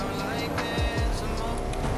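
Car engine driving in the video game Fortnite, a steady motor drone with a couple of rising sweeps, heard up close with game noise around it.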